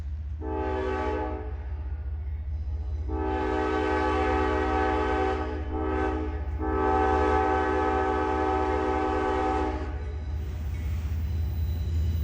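A freight train's horn sounds in a short blast followed by two long loud blasts, over a steady rumble of rolling rail cars, near Paintsville, Kentucky, on the Big Sandy Subdivision.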